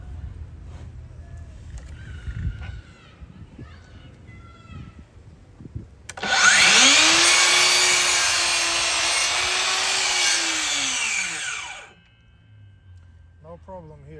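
DEWALT DCS714B 20V MAX XR cordless miter saw spinning up and cutting through 4.5 inch baseboard, one loud whining cut of about six seconds that winds down, after quieter shuffling and faint talk.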